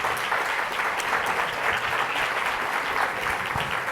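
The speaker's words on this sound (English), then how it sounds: "So let's give Adam Stern a round of applause." A large keynote audience at an offshore wind event gives sustained applause for Adam Stern, a thick, even roar of clapping holding steady for the full length.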